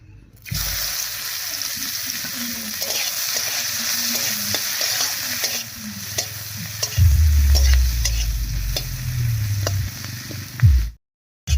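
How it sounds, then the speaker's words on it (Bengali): Chopped onion and two slit green chilies hit hot oil with a loud sizzle, followed by repeated stirring taps and a burst of stronger frying toward the end before cutting off. "এই তেলের মধ্যে দিয়ে দেবো পেঁয়াজ কুচি আর দুটো চেরা লঙ্কা"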